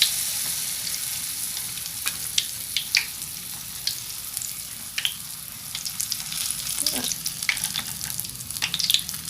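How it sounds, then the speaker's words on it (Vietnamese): Small lotus flower petals deep-frying in hot oil give a steady, close sizzle with scattered crackles and pops throughout, no voices. "Mình chiên những cái bông sen nhỏ này các bạn."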